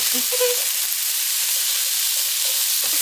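Vegetables and tofu sautéing in a pan for teriyaki give a steady close sizzle and hiss throughout, with a few brief soft clinks and stirring touches.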